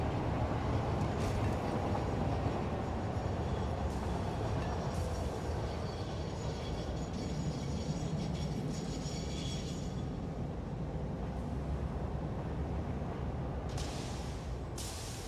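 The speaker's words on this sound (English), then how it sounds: "This train's going to steel pipes." Train rolling past in the factory-building video game Satisfactory, a steady rumbling rail noise with faint clattering and occasional brief higher squeaks, moderately quiet and continuous, no voices.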